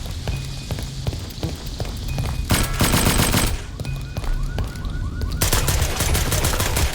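Rapid bursts of automatic gunfire rattle out in the Roblox shooter Project Apex, with loud, dense volleys separated by brief quieter gaps and no voices over them.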